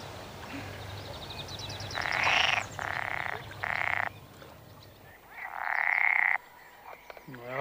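A frog lets out several loud, buzzing croaks in bursts, a rapid trio followed by a longer call after a pause.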